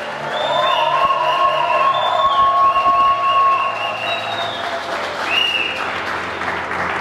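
A church congregation at a French-language prayer service bursts into sustained, loud applause and cheering, with whistles and whoops rising over the steady clapping throughout.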